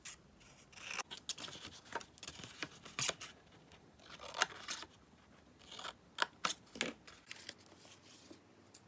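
Scissors snip the tabs of a folded paper treat bag, a series of sharp, close, quiet cuts in irregular clusters with soft paper rustling between them.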